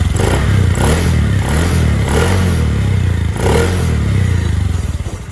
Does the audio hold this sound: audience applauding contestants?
no